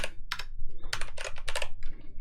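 Someone types on a new computer keyboard, with quick bursts of crisp, close keystrokes clustered in short runs and separated by brief pauses. No one speaks.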